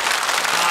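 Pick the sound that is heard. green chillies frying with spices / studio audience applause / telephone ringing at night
studio audience applause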